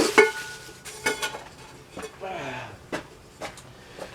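A metal pan is pulled out and handled, producing several sharp clanks and knocks spread across a few seconds, along with a short scraping rattle in the middle.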